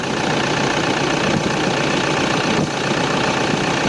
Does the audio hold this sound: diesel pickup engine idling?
yes